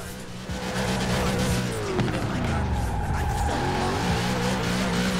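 Ford Transit van drifting in Forza Horizon 4, its tires squealing in long sliding streaks over a steady engine drone, loud and continuous, with someone talking over it.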